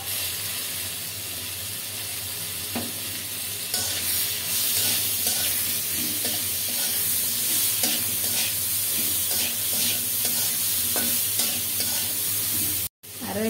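Chopped onion frying and stirred in a pan during a Bengali rui fish curry with eggplant, a steady loud sizzle and hiss with scraping spatula strokes throughout and a brief dropout near the end.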